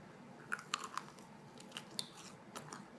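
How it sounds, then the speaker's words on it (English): Someone bites and chews crunchy fried chicken fingers from a fast food chain, close up, giving several sharp, crackly crunches spread irregularly over a few seconds with no talking. "They're still crunchy now."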